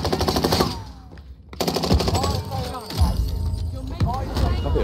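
Automatic gunfire in the video game Warzone, Rebirth Island, with rapid bursts of shots and a brief pause, mixed under excited players talking over the action.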